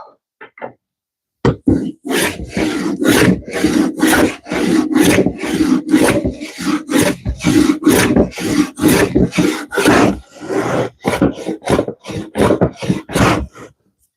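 In the New World game's carpentry, wooden doors are sanded with a long run of steady, rhythmic rasping strokes. They start after a short pause and continue loud and close with no talk.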